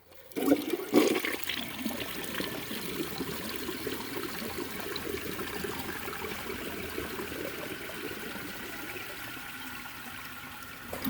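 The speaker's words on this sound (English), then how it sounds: "Let's flush it again." A 1976 Eljer Emblem toilet flushes with a sharp clunk of the handle and a loud initial rush of water, then a long steady swirling drain and refill hiss that continues evenly to the end.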